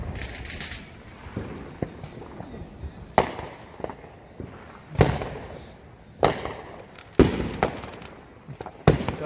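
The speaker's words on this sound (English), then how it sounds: "We have private fireworks right next to our house." Fourth of July private fireworks explode right next to a house in a series of sharp, booming cracks spaced a second or two apart, some loud and close, with faint crackle in between.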